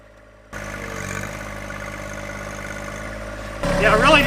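A tractor engine labours steadily under load while a grapple pulls hard against something stuck, starting abruptly and rising louder near the end with a whining pitch shift, close and fairly loud.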